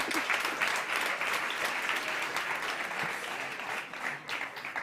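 Sustained applause from a packed startup-competition audience at South Summit 2018 fills the room, steady and dense throughout with no one speaking over it.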